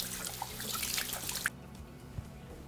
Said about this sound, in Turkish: Metalle beraber elime iyice yıkadım.